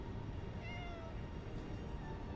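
A cat gives a few faint, short meows over a steady background hum, heard from a distance with no talking.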